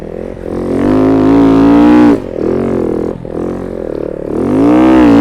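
A CMX snow bike kit fitted to a dirt bike runs downhill on slushy snow, its engine droning loudly and close with wavering pitch as the throttle rises and falls, dipping briefly twice before surging again.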